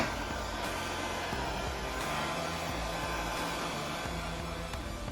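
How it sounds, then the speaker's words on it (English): A heat gun on a low setting blows over fresh paint on a small Bandai Millennium Falcon model, making a steady, close airy whoosh and hum for the whole stretch with no talking. "I'm just using my heat gun on a really low setting just to speed up the drying."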